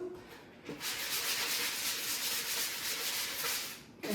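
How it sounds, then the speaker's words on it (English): A small sanding block is rubbed quickly across a wooden shadowbox piece, making a steady, soft scratchy hiss for a few seconds before it stops. "Let me sand it off real fast."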